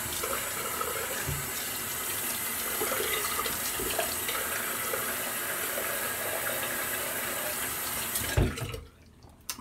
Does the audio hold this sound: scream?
no